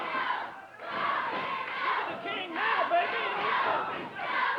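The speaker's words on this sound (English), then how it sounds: "Crowd chanting, "Go, King, go."" A wrestling arena crowd chants "Go King go" in loud, rhythmic waves of massed voices, filling the whole moment without commentary over it.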